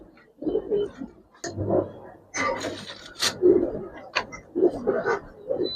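Giribaz and coloring pigeons coo in a series of soft, throaty bursts, fairly close and repeated through the stretch with short pauses between calls.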